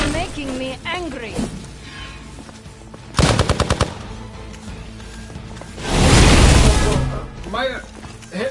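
Gunfire from the Marvel's Midnight Suns video game: a rapid burst of about eight loud, evenly spaced shots, followed a few seconds later by a heavy roaring blast, with game voices speaking before and after.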